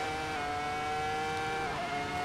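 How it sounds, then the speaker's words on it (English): Ferrari F2004 V10 Formula 1 engine in the racing game Assetto Corsa, a steady high-pitched screaming whine held at near-constant revs, loud and alone, with a slight pitch dip near the end. "There is no sound that compares to the sound of a V10 Ferrari Formula 1 car"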